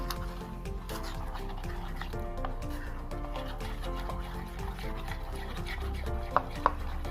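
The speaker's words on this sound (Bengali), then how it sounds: "দেখো এইভাবে আমি এটাকে ভালো করে ফেটিয়ে নিচ্ছি" A spoon beats chicken lollipop batter in a bowl with quick, rhythmic wet tapping and stirring, close by, over a steady background hum.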